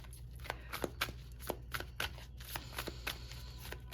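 Tarot cards being pulled and shuffled, a steady series of sharp papery flicks and riffles close by, about two per second, with no talking.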